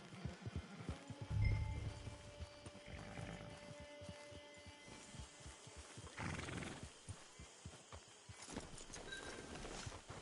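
A horse at a camp neighs loudly and nearby early on, followed by scattered hoof clops on the ground and a second, fainter whinny later, with little else around.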